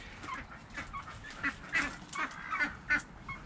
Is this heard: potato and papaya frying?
no